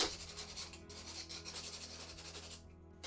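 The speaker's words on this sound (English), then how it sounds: "I'm going to get some sandpaper, and I just want to take off some of the lumps." Sandpaper is rubbed back and forth over a dried, textured painting to knock off lumps. The close scratchy rasping comes in quick repeated strokes and pauses briefly near the end, with no talking.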